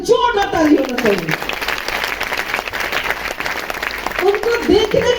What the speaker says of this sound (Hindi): हमारे गुरु के जोरदार ताली होना चाहिए